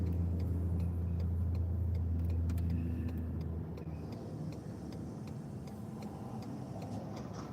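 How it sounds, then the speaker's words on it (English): A big truck rumbles past outdoors as a loud, low engine drone that drops off after a few seconds, leaving a quieter road hum with faint ticking. "I'm not jumping out in front of that big truck."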